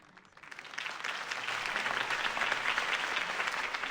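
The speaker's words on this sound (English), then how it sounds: "could have heard that applause" A crowd's applause in Batman: The Telltale Series swells from quiet to a steady, sustained roar of clapping, a little distant, with no talking over it.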